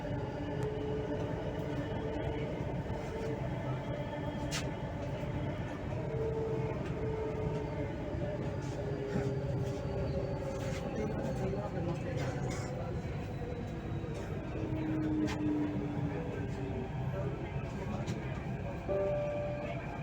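A Delhi Metro Violet Line train runs along its route with a continuous, close, rumbling roar, steady throughout, while a voice announcement plays over the noise.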